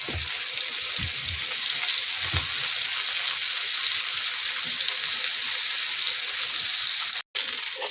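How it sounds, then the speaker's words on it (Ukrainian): Fish frying in a pan on high heat makes a loud, steady, close sizzle that runs without a break, apart from a split-second dropout near the end. "А зараз даю великий, тільки почнеться гарненько підсмажуватися і убавляю огонь на малесенький."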